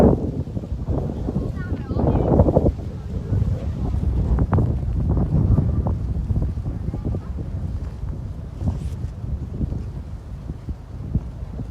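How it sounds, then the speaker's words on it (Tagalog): Strong gusty wind at Clear Water Bay Park, Hong Kong, buffets the microphone throughout, a constant low rumbling roar with no clear voices over it. "Buti na lang mahangin guys"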